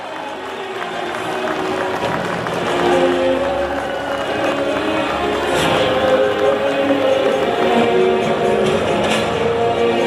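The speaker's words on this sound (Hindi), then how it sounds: "एक बार जोरदार तालियां हो जाए।" Loud, sustained applause from a large outdoor crowd at a highway corridor ceremony in Darjeeling with minister Nitin Gadkari, a dense continuous roar of clapping with faint voices mixed in.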